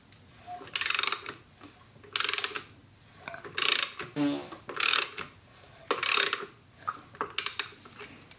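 A Fiat junkyard engine is turned over by hand through a full cycle, making repeated bursts of ratcheting, clicking mechanical noise close up, with short pauses between the turns.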